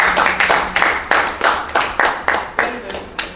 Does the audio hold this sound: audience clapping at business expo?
yes